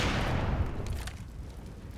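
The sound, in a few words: grenade explosion in video game CS:GO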